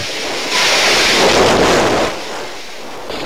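Loud, roaring surf from a super typhoon crashes in a continuous rush of noise at Virac, Catanduanes, swelling and easing, with heavy wind buffeting the microphone.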